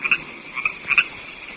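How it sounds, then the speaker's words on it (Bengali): Frogs calling at a rain-filled village pond just before dark during the monsoon, several short croaking bursts repeating over a steady high insect drone, moderately near and fairly faint. "অন্ধকার নামার আগেই ব্যাঙের দল ডাকাডাকির কাজ শুরু করে দিয়েছে"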